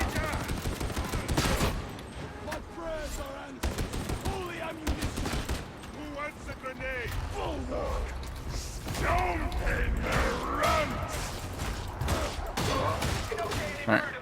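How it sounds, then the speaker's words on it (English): A Ripper gun fires in Warhammer 40,000: Darktide as a rattling, mechanical stream of shots mixed with combat noise and game effects, while voices talk throughout. "I'm gonna assume it's a Ripper gun."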